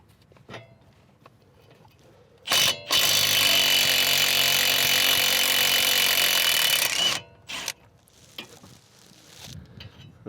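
Power tool, likely an impact gun, breaking loose rusted hub bolts on a wheel bearing hub assembly; one loud sustained burst of about four seconds, close by, framed by brief shorter bursts and quiet shop noise.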